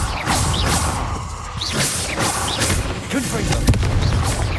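Incendio fire spell cast repeatedly in Hogwarts Legacy, a series of whooshing bursts and muffled booms at roughly half-second to one-second intervals over a busy background with short vocal sounds.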